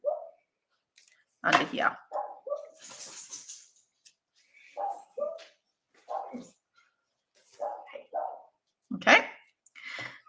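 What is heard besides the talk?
dogs barking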